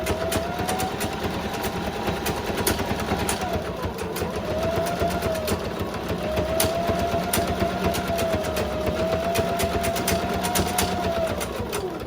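A sewing machine backstitches the end of a floral fabric placemat seam, its motor whirring in a continuous close stitching rhythm that rises and falls slightly in pitch, with no voices.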